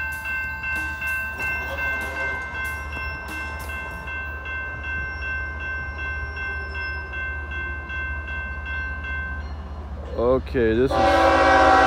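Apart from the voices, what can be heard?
train climbing hill with horn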